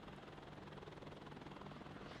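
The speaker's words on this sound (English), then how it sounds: "Helicopter being shot at." A military helicopter in the WARNO real-time strategy game hums with a steady, rapid rotor chop at a quiet level, continuous throughout the short stretch.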